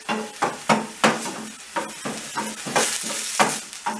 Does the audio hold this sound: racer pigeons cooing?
no